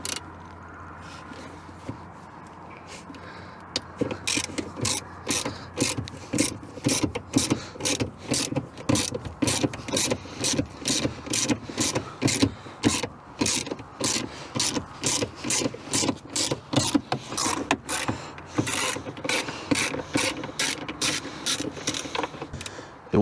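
A ratchet loosens bolts in the trunk of a Subaru Impreza GC8 WRX, its rapid, close clicking coming in repeated bursts of strokes with short pauses between them.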